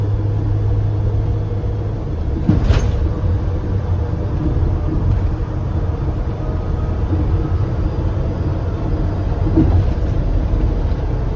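A car drives along a turnpike flyover above the truck lane, a steady loud road rumble and engine drone from inside the vehicle, with a brief thump early on and a few faint knocks later.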